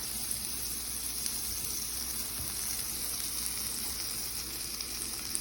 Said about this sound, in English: So we're going to add some butter to our pan.